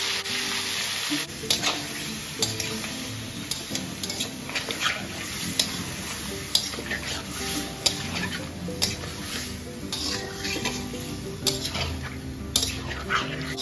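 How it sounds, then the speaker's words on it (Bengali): Marinated goat meat, seasoned with salt and yogurt, fries in oil with salt and turmeric: a close, continuous sizzle broken by scraping and clinking of stirring against the pan. "মাংসগুলো এভাবে তেলের মধ্যে একবার ঢেলে দিয়েছি, একটু ভাজা করব"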